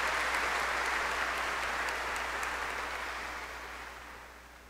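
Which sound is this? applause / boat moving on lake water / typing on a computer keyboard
applause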